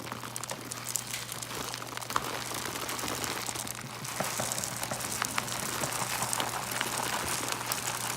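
Turtle food pellets pour into a container in a dense, continuous patter of tiny hard clicks and rustles, like light rain, steady and fairly close.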